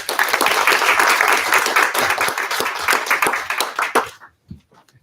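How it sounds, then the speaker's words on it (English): Loud, close applause from a conference audience welcomes a speaker to the stage, dense clapping that thins into a few scattered claps and then fades to near silence in the final second. "So please, a warm applause for Liam."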